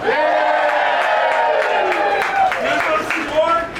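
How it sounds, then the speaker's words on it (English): A crowd at a seafood stall in Pike Place Market cheers and whoops loudly over scattered claps, with voices shouting together in a sustained, lively burst. "This is the part where you cheer!"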